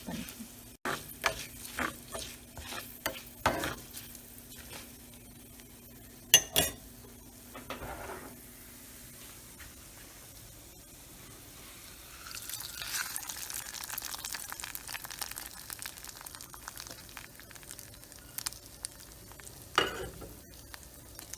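Ven pongal mixture is stirred in a pan in a home kitchen. Quiet scrapes and clinks of a spoon against the metal come in sparse bursts, with a louder stretch of mixing midway, and no one speaks.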